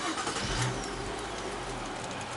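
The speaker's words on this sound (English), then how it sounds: "And let's start the car up, see what happens." A car engine cranks and starts, then settles into a steady idle, close and fairly quiet with no talking over it.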